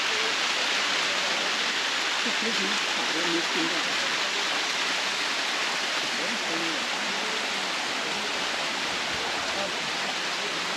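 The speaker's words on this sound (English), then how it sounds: "that's me walked up the sticky waterfall" Rushing water of a walkable Thai waterfall fills the scene with steady, loud broadband flow from start to finish, constant and close, while someone climbing up it speaks briefly over the roar.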